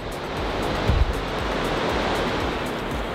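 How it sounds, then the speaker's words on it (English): A strong, steady rush of wind roars across the microphone with a low rumble on a bridge crossing on the Everest Base Camp trek, broad and continuous, with a brief heavier gust near the start. "look how windy it is out there."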